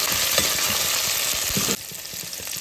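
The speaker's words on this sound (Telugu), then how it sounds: "ఆనియన్స్ రెడ్ గా అయ్యాక ఒక హాఫ్ టమాటా వేసుకోవాలండి తర్వాత అవన్నీ మొత్తం కలుపుకోవాలండి" Onions and half a tomato fry in hot oil for a mutton vegetable curry, a loud continuous sizzle broken by the scrape and clatter of a spoon stirring the pan, the hiss dropping suddenly partway through.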